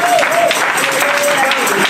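A church congregation applauding and cheering the Lord for a man, a brief, loud wash of clapping and crowd noise under a voice speaking over it.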